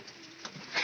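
Pigeons give a brief, soft coo while landing near chickens feeding on scattered grain, faint against a quiet background.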